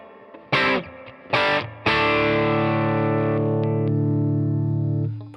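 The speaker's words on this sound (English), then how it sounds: "here's without the delay, so you can hear the reverb." Distorted electric guitar through a Neural DSP Quad Cortex, delay off, strikes two short chords, then a sustained chord rings out with a long reverb tail that slowly fades.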